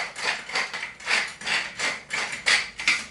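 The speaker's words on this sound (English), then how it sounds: "A good grind of black pepper" A hand pepper mill grinds black pepper in a home kitchen, a close gritty crunch repeated in about eight steady twists, heard alone.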